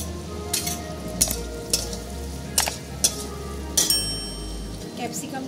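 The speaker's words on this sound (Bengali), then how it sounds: "এবার আমি পেঁয়াজটা দিয়ে দিচ্ছি।" Onion fries in a pan with garlic for chilli chicken, a steady sizzle punctuated by several sharp clinks of a spatula against the metal and a soft background hum.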